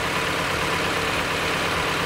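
A car engine fitted with a flex fuel kit idles steadily nearby, an even low rumble that holds constant with no revving and no voices.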